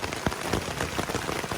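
Steady rain pattering on a tent at a crowded trail campsite near a privy, a dense close drumming of drops with a few heavier taps, continuous and without speech.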